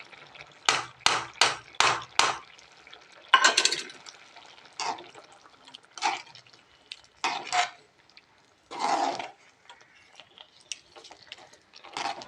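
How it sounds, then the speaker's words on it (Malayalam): Roasted coconut is stirred into a pot of pumpkin and cowpea erissery: a run of quick scraping strokes, then scattered separate scrapes and clinks of a utensil against the vessel, close by with quiet gaps between. "ആ തേങ്ങ വറുത്ത് വെച്ചത് നമ്മൾ പാത്രത്തിലെടുത്ത് വെച്ച് ഇതിനകത്തേക്ക് മിക്സ് ചെയ്ത് കൊടുക്കണം"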